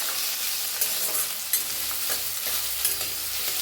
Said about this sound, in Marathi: कांदा लांबकळ कापल्याला टाकून घेते कांदा तेलात